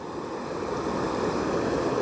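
A heavy, steady rush of water from the São Francisco transposition flowing into the Castanhão reservoir, a broad continuous roar close by with wind noise and no breaks.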